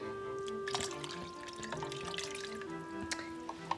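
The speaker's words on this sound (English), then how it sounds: "Now I'm gonna add about 2 cups of water." Water is poured into a cooking pot of chili mac with beef broth and elbow macaroni: a steady splashing stream with a few drips, heard close over a constant kitchen hum.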